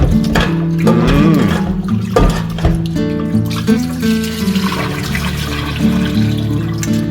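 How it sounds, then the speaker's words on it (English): Raw chicken rinsed under a running kitchen tap: a steady, close rush of water runs throughout, with sustained tonal sounds layered over it. "I am just rinsing it off"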